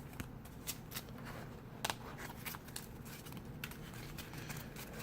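Yu-Gi-Oh trading cards are shuffled back into a deck with quick, soft riffling and snapping card sounds, close and quiet, repeated in short bursts against a faint background hum.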